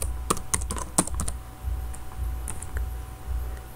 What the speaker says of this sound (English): So for the first column, I'll type name of student